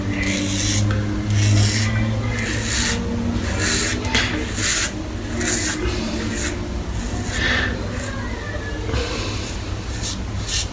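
A razor shaves a head against the grain in a series of close, raspy scraping strokes that repeat in an even rhythm, with no talking.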